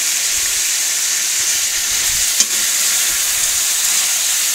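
Chicken pieces frying in a karahi, a loud continuous sizzle and hiss up close, with a faint scrape of stirring partway through and no voices.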